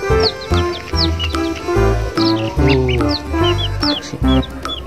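Chickens cluck repeatedly over a busy background of chirping birds, with several overlapping calls close by and fairly loud throughout.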